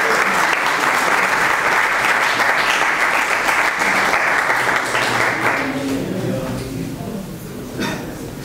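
Audience at a poetry event at Kashi Hindu University greeting a poet with loud sustained applause that fills the room, then thins out over the last few seconds as the clapping fades.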